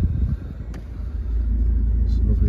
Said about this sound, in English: Just to start the car up.